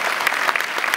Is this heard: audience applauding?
yes